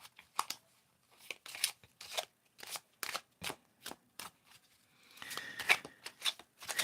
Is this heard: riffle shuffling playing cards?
yes